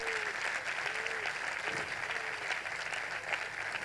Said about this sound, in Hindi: यस, जोरदार तालियां।